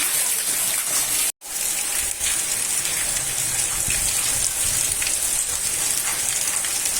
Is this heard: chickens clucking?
no